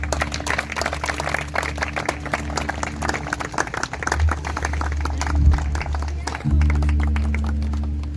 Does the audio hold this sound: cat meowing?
no